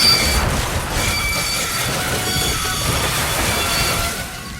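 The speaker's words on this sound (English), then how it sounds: "its wheels started spinning and then locked as it skidded down the bank" An animated train skids down a bank and crashes, a loud rumbling roar with grinding, rattling metal and a brief squeal, close and continuous before easing off at the end.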